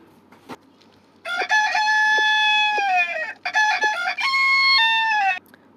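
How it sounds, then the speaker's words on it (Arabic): A rooster in the Toca Boca video game crows twice, each long, loud, clear cock-a-doodle-doo ringing out over near silence with a short gap between them. "بصوا الديك بيعمل صوت ايه."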